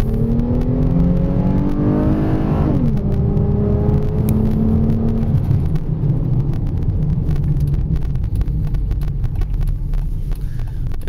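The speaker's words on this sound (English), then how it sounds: "The exhaust just sounds awesome." A Dodge Magnum V6 with an aftermarket exhaust and cold air intake revs hard and climbs through first gear, with a steady low exhaust roar and whooshing wind noise throughout.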